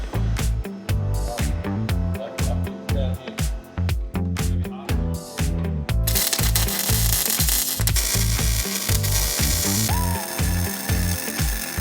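Ratcheting hand tools loosening mount bolts on a Nissan Patrol chassis during a TD42 engine conversion: a rapid, loud clicking ratchet runs in repeated bursts, then gives way to a continuous harsh mechanical grinding whir.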